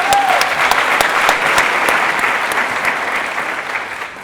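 An audience at a graduation ceremony gives a sustained round of applause, thick steady clapping from a large hall that fades slightly toward the end.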